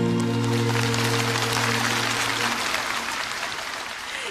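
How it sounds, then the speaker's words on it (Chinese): Warm audience applause at a Mother's Day charity concert, a dense wash of clapping that holds steady for over four seconds and slowly eases, with a lingering sung or held musical tone fading beneath it early on. "谢谢谢谢大家这么热烈的掌声"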